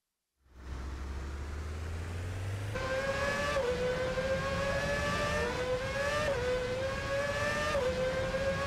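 A car driven in Free Fire during a mobile esports match, with its engine starting up and then revving steadily, pitch rising and dipping through several gear-like shifts, loud and continuous with no talk.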